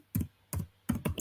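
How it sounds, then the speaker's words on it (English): Computer keyboard typing in short bursts of quick key clicks, close and clear, separated by brief pauses. "I'm typing in the comment section just so you can benefit from it."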